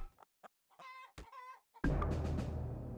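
Chickens in the battle game Totally Accurate Battle Simulator give several short clucks in quick bursts, followed by a louder, noisier stretch of game sound near the end.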